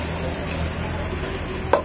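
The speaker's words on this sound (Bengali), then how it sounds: "এগুলোকে এখন হালকা গোল্ডেন করে ভেজে নেব। পেঁয়াজগুলো হালকা গোল্ডেন ব্রাউন হয়ে আসছে।" Onions frying to a light golden brown in a pan for morog polao, a steady close sizzle with a brief clatter of stirring near the end.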